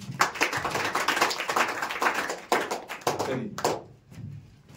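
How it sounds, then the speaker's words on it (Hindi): Applause breaks out in a classroom for a student who took second place in a weekly test, a crowd clapping in a dense, close patter that fades out near the end. "इनके लिए भी ताली।"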